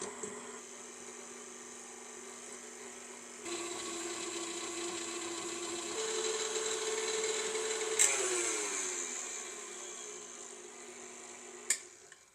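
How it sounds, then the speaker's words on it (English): Butter being creamed with the paddle attachment of a stand mixer, giving a steady mechanical whir and hum at low volume that steps up in speed partway through, with a couple of sharp knocks. "We're going to put our butter in first. And we're going to cream the butter."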